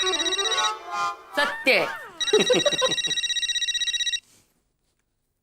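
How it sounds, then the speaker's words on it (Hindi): A telephone rings with a steady electronic warble for a couple of seconds, breaking off abruptly, after a brief spoken line. "या तो फोन की रिंग बजती"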